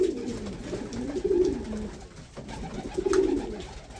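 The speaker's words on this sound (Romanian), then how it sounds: "Așa sunt porumbei misterioși" A pigeon coos in low, soft, rolling phrases, two bursts separated by a brief lull, over light background noise.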